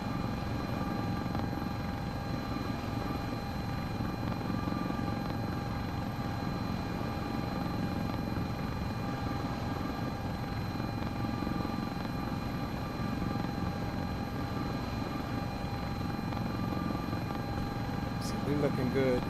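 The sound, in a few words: Sikorsky S-76C++ helicopter flying, from CowanSim video game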